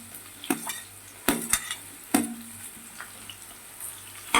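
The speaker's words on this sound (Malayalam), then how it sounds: "ഇപ്പം എണ്ണ ചൂടായി കടുക് പൊട്ടിയിട്ടുണ്ട്. അതിലേക്ക് ഉള്ളിയും മത്തങ്ങയും വെള്ളരിക്കയും ചേർക്കുന്നുണ്ട്." Onion, pumpkin and cucumber are stirred into hot oil with popped mustard seeds for a koottu theeyal. A soft sizzle underlies sharp, irregular scrapes and clinks of a spoon against the pan, about five distinct strikes.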